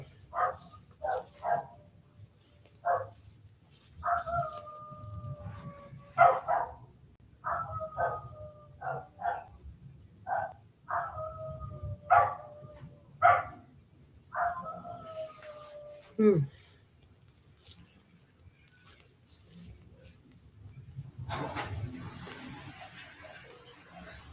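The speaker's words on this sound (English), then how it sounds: "This poor dog's barking." A distressed dog barks and yips in repeated bursts with rising howl-like whines, heard from a moderate distance, while a person talks quietly in the background between the barks.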